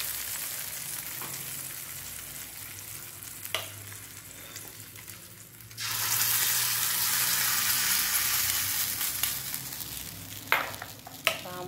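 Hot oil tempering with asafoetida, green chillies and curry leaves is poured onto chutney: quiet stirring and faint clinks give way to a sudden, loud, sustained sizzle that carries on steadily with a few sharp knocks.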